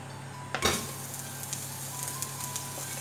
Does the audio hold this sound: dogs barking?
no